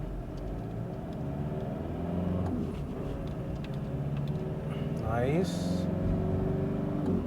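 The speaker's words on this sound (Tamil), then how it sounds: "இப்போது ஹைவே ஆக்சிலரேஷன் டெஸ்ட் பண்ணலாம்" A 2011 Chevrolet Tavera 9-seater accelerates on a highway, engine rumble heard from inside the cabin building steadily, with a rising whine near the end and brief speech over it.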